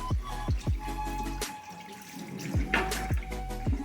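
Water runs steadily from a tap onto hair and splashes as it is interrupted and shifted, with gurgling and a few soft knocks, close by.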